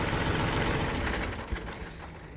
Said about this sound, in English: I'll just go ahead and cut the tractor off.